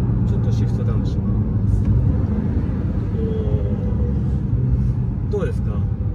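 A six-cylinder 3-litre turbo engine of a 2018 Porsche 911 Carrera T (type 991.2) drones steadily at low pitch inside the cabin through a downshift, with constant road rumble throughout and a brief rising engine whine near the end.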